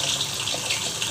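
Water is poured into a cooking pot holding stuffed capsicum with salt, red chilli powder and turmeric, about two ladlefuls; a short, steady splashing gush that is close and alone.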